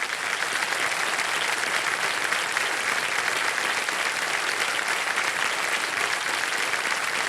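A studio audience at a television quiz show claps steadily for a contestant, a thick, even wash of applause that holds at the same loud level throughout.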